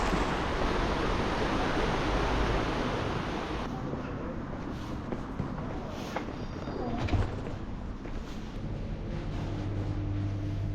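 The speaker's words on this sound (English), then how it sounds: "Functioning water wheel, that's cool." A functioning water wheel turning in water in a French town, heard as a steady rushing, splashing wash of water that stays at an even level throughout.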